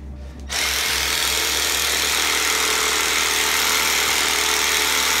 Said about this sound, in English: one of the nice things with this thumper is also I can hold it like that and have really good guidance